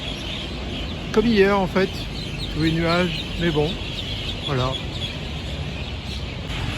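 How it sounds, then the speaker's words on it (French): Many birds in the trees around a ministry building in Vientiane cackle and chatter in repeated bursts overhead at sunset, while someone talks beneath them. "Tous les arbres autour du ministère sont remplis d'oiseaux et ça caquette, ça caquette."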